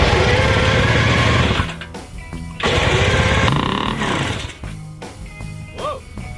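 A vintage motorcycle engine in a workshop being turned over with the front brake held on, producing loud bursts of mechanical churning and whirring separated by short pauses and a few lighter clicks.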